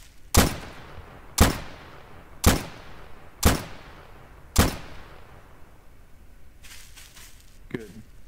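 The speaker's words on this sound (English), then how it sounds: "Fire 5 bullets to the target." Five evenly spaced gunshots ring out at a target in Garry's Mod, each a sharp, loud crack about a second apart, followed by faint metallic clatter.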